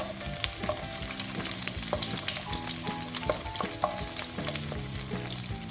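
Mustard seeds, ginger and garlic frying in hot oil for an apple pickle, a steady close sizzle with scattered popping crackles and light stirring scrapes, no voices.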